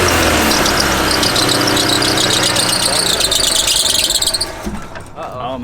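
Engine on a rusty Honda Civic cranking without starting, a loud close squealing, grinding crank that runs steadily for several seconds before winding down and stopping.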